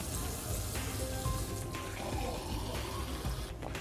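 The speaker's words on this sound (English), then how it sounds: "Now we'll take a sample of faucet water." Tap water runs steadily from a faucet into a glass, a continuous close splashing and filling sound that holds evenly without pauses.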